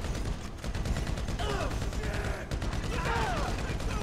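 Rapid automatic gunfire from a shootout in the video game GTA 5, dense and continuous throughout, with burst after burst of bangs filling the scene and a voice speaking over the shooting.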